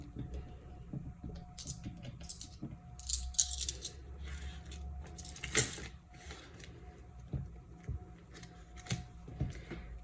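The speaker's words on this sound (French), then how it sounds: "Je vais mettre les pièces ici." Coins being set down during a monthly envelope budget count, with a few light metallic clinks and rattles scattered among quiet handling noises, close and fairly faint, with no talking.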